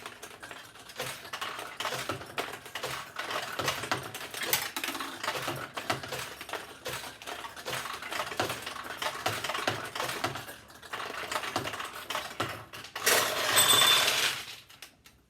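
A 1973 Nishijin Model B vintage pachinko machine launches its metal balls. Dense rapid clicking and metallic ticking rattle on steadily, close up, rising to a louder burst of clattering toward the end.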